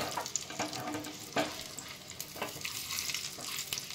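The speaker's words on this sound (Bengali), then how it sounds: "বিউলির ডাল, কারি পাতাটা আমি একটু কুচিয়ে নিয়েছি, আর একটু হিং। এগুলো দিয়ে একটু ভেজে নেব।" Urad dal, chopped curry leaves and asafoetida frying in hot oil, a soft, quiet crackle and sizzle with scattered pops and a few light stirring scrapes.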